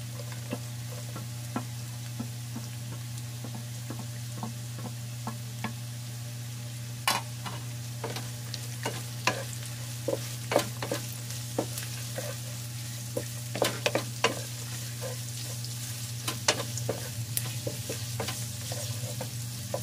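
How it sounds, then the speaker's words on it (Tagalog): Carrots sautéing in a pan for fish escabeche, a steady close sizzle running throughout with frequent clicking and scraping stirs of a utensil that grow busier toward the end, and no talking. "Igisa lang muna natin."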